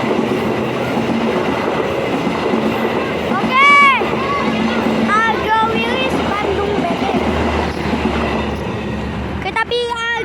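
Argo Wilis passenger train passing through Indihiang station, a steady rumble of railcars and clattering wheels close by, with long horn blasts sounding twice over the roar.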